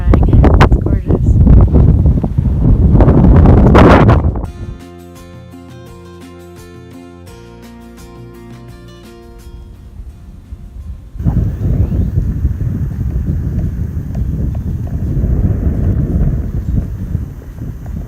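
Strong wind buffets the microphone on a hiking trail, loud roaring gusts at the start and again in the latter part, broken by a quieter stretch of music in between.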